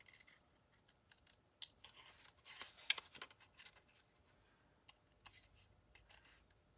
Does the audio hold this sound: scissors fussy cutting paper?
yes